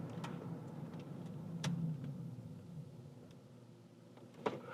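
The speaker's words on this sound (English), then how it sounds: "I'm gonna hit these brakes pretty good." A 2005 Rolls-Royce Phantom slowing under braking from about 43 mph, a faint, smooth low rumble from the car's interior that fades gradually, with a few soft clicks and knocks.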